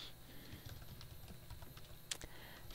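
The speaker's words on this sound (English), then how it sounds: "I'm just going to type it" Quiet typing on a computer keyboard, a steady patter of soft key clicks with a few sharper taps, close and alone.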